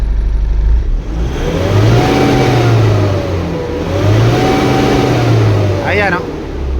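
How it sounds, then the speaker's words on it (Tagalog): An Isuzu truck's 4JJ1 diesel engine, recently repaired for low power, revved twice up toward its 4000 RPM red line, each rise and fall loud and close, with a voice speaking over it. "So ngayon i-try lang muna nating i-rev."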